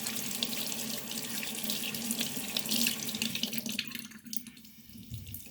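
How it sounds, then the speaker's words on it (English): Water pours steadily from a tap into a sink as hands are washed, a close hissing stream that cuts off near the end, leaving a quieter trickle. "Okay, wash my hands."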